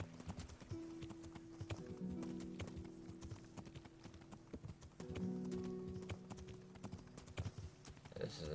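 Horse hooves clip-clop in the medieval video game Kingdom Come Deliverance, a steady plodding rhythm of close hoofbeats alongside faint tonal music, with no talking.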